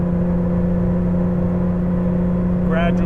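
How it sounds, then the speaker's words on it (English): A 1983 Porsche 911 Safari climbs a hill at half throttle near 3,100 rpm, its engine giving a steady, loud droning hum from inside the car with a brief whir near the end. "gradually accelerating up to 80."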